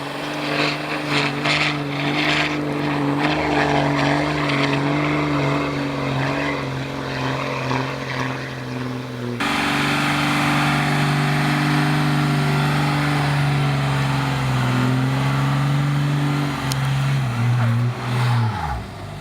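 A truck built as a bug-out vehicle idles with a steady, deep engine drone, then climbs into a louder, rougher rev before the pitch winds back down near the end.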